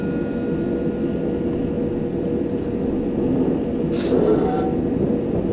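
Train running in Train Simulator 2020 on a 12-car service heading for Ewell East, a steady low rumble and drone throughout with a brief hiss partway through.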